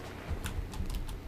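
Quiet keystrokes on a computer keyboard while configuring PanelView Plus 7 software: a few soft, close taps over a faint background hum, with no voices.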